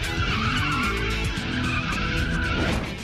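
A powerful rear-wheel-drive car spins a tight 360-degree turn around a cone, its tyres skidding and squealing in a sustained, loud screech over a steady engine roar.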